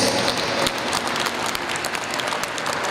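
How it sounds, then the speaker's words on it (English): Steady, dense applause from a large audience at a wheelchair rugby cup final, sustained and even throughout with no voices standing out. "Can we have a massive round of applause for our game players?"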